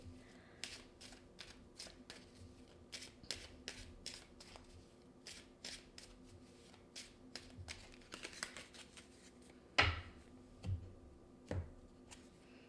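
Tarot cards shuffled by hand in a quiet series of soft riffling flicks, then a few sharper taps and slaps as cards are drawn and set down near the end, close and with no talking.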